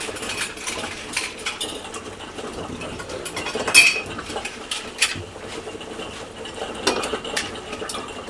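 Metal canning lids dropped into a pot of water on a stove, a run of light clinks and metallic taps with a few sharper clatters, close and without talk.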